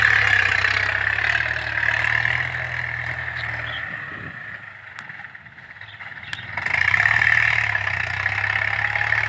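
A Ford tractor engine runs steadily while plowing, a loud close drone that dips briefly in the middle before swelling back to full strength, with no talking.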